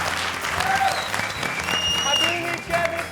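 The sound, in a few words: loud applause from studio audience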